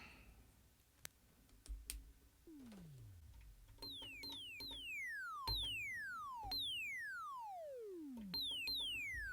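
A space drum synth running through a Teenage Engineering TX-6 mixer fires quiet clicks, then repeated zapping tones that sweep steeply downward in pitch, overlapping in a rhythmic pattern.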